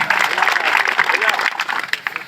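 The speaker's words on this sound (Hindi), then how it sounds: "बजाओ ताली" An audience at a political rally in Madhya Pradesh bursts into brief, dense clapping that rises quickly and tapers off, with a speaker's voice carrying over the applause.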